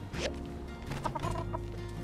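Hens clucking in the video game My Time at Sandrock, a few close, clear clucks and short calls over a soft background hum.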